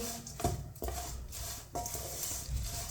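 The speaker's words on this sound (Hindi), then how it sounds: "इसी तरह चम्मच चलाते हुए सेवइयों को भुने।" Vermicelli for sweet milk seviyan is stirred and roasted with a spoon in a pan, a close rhythmic scraping with metallic knocks against the pan and a faint sizzle, no voices.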